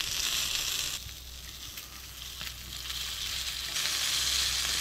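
Rava-coated mackerel (bangda) fries on a low flame with a steady close sizzle that drops quieter briefly in the middle, then swells again, with a few faint stirring scrapes and no voices.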